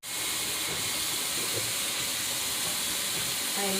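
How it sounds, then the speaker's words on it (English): Vegetables sizzle in a hot pan while sautéing for pinakbet, a steady close hiss with faint clinks and stirring noises over it. "letting it saute all together"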